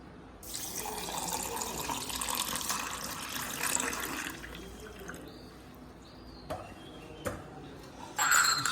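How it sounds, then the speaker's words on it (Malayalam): Water is poured into a container for an ice-water sugar mix in a home kitchen, a steady splashing rush for about four seconds that tapers off, followed by a few light clinks and drips. "വെള്ളം ഒഴിക്കണം"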